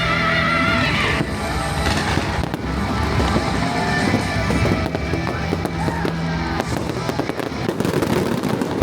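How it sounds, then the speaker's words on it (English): Fireworks show at a Christmas holiday event in Orlando, with a dense, continuous barrage of booms and crackles filling the air, layered under crowd noise and festive ambience throughout. "That's always great to see a fireworks show."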